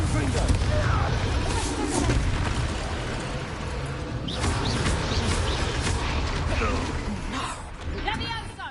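Bombarda and Confringo spell explosions in the Hogwarts Legacy video game, a continuous barrage of booms and crackling bursts with sharp impacts scattered throughout and faint voices beneath the din.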